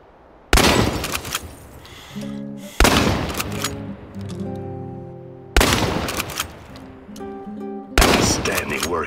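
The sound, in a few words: shotgun fire in the video game Chernobylite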